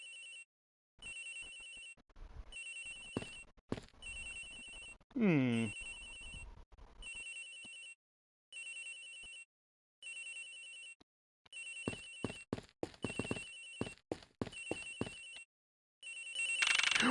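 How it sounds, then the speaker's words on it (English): A telephone rings in an Ace Attorney Investigations video game, its electronic ring repeating in short regular bursts, with brief spoken murmurs and game sound effects between the rings. "Agent Hicks's phone! It's ringing from somewhere, sir!"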